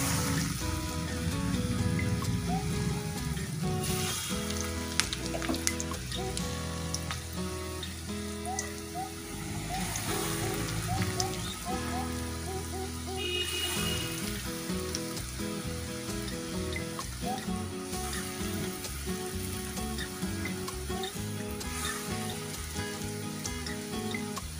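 Food frying in hot oil sizzles steadily and fairly loudly, a continuous crackling hiss with small pops throughout, no voices.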